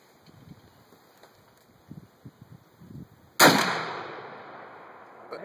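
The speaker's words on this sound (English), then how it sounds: "Let's shoot at these rims here." One sharp, loud Mosin rifle shot fired at wheel rims outdoors, after a few soft rustles, followed by a long decaying echo.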